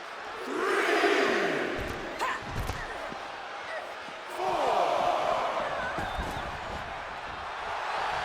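An arena crowd in the WWE 2K26 wrestling video game roars and cheers in two broad swells, loud and sustained, with a few sharp thuds and slams cutting through the crowd noise.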